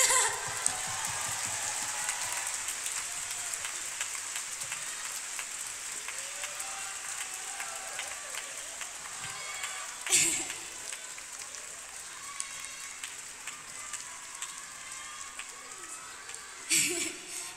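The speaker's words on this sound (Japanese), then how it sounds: "拍手" Applause fills a concert hall, a steady patter of many hands heard from a distance, with brief louder bursts of cheering.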